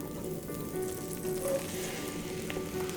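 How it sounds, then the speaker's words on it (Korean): Mushrooms sautéing in melted butter in a pan give a steady, close sizzle and crackle that runs unbroken throughout, with no talking. "이대로 바로 양송이 볶을 겁니다"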